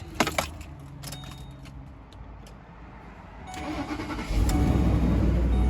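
A Ford car's engine, cranked with a jump box on a dead battery, turns over and catches, settling into a louder steady idle after a few seconds of quieter rattling and clicks.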